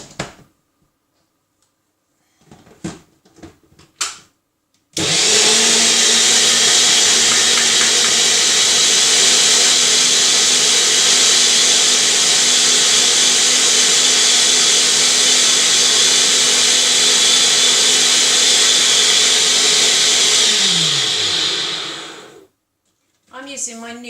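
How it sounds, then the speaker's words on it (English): A NutriBullet blends a tandoori chicken marinade. After a few clicks of handling, a loud, close, steady motor whir runs for about seventeen seconds, then winds down and stops. "I'm using my NutriBullet because I don't have a blender, but it works just as well"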